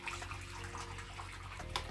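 Boiled water poured into an oven pan for a pudding water bath, a brief steady splashing flow close by, without talk.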